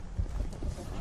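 Goats and sheep fed on maize in a drought-hit part of South Africa bleat together, several overlapping calls close by in a short, busy burst.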